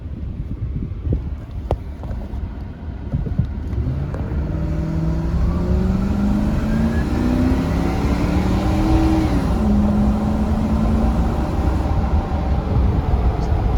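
A 2006 Lincoln Mark LT pickup with 181k miles accelerating from a standstill, its engine tone rising steadily in a low drone inside the cab, then easing after a shift, under constant road and wind noise.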